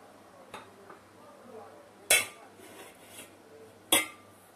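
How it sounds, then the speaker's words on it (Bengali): Rasmalai sweets are stirred in a pot of syrup, heard as two sharp spoon knocks against the pot and a few faint clinks over a quiet background hum. "মিষ্টিগুলো দিয়ে ভালো করে নাড়াচাড়া করে দেব"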